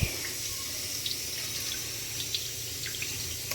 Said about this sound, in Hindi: चलो पानी डाल के धो लेंगे।